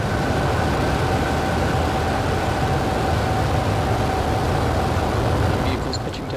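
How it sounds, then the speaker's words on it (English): At liftoff on a SpaceX Starlink mission in October 2020, the rocket gives a steady, dense roar with a low rumble. It stays loud and unbroken for the whole stretch, with a faint tonal hum running through it. "and liftoff"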